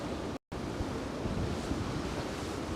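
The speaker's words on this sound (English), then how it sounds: "Don't come here in a super windy day though" Strong cold wind buffets a waterfront pier in Manhattan, a steady broadband roar with gusty rumble, briefly cutting out for a moment near the start.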